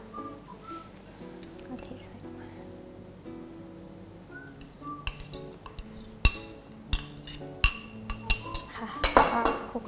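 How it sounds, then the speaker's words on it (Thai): Crushed crackers being stirred with melted butter in a bowl for a no-bake toffee caramel cheesecake base, heard as soft scraping with a run of sharp utensil clinks against the bowl growing busier toward the end. "คนให้เขาเข้ากันนิดนึงนะคะ"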